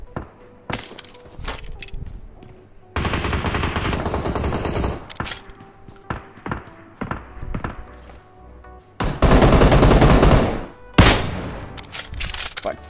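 Gunfire in a shooter video game: sharp single shots and two long bursts of rapid automatic fire, loud and close, with breaking glass among them and quieter gaps in between.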